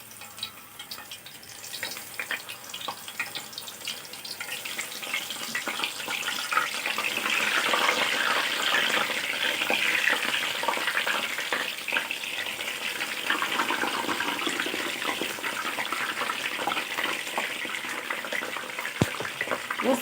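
Eggplant slices sizzling and crackling in hot oil after potatoes are fried, a steady close frying hiss that swells midway, with no talking.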